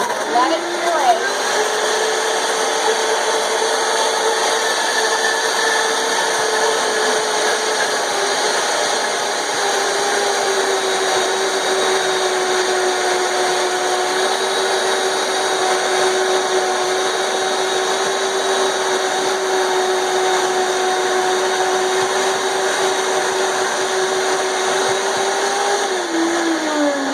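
A Vitamix blender runs steadily, pureeing cranberry chutney with a loud, continuous motor whir that holds an even pitch for the whole stretch before slowing at the very end.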